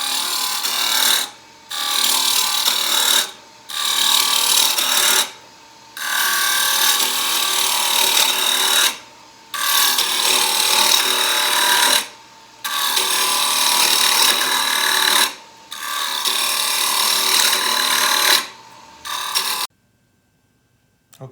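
A wood lathe turns a yin yang bowl while a tool takes its large surfaces down to diameter, a loud rough scraping and rasping in repeated passes of about two seconds, each broken by a brief pause.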